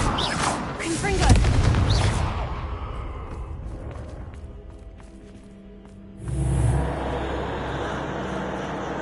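Confringo blasting spell explosion in Hogwarts Legacy, a loud booming burst with rumbling debris that fades, followed by a second heavy blast and lingering roar.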